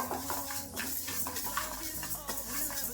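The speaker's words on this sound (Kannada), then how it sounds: "ಇದಕ್ಕೆ 3 ಟೇಬಲ್ ಸ್ಪೂನ್ ಉದ್ದಿನಬೇಳೆ ಹಾಕೊಂತಾ ಇದ್ದೀನಿ. ಇದು ಕೆಂಪಗಾಗೋವರೆಗೂ ಹುರ್ಕೋಬೇಕು." Urad dal roasting in a pan as moringa chutney powder is prepared, with steady scraping and stirring of the lentils against the metal and a faint background sizzle, close and continuous throughout.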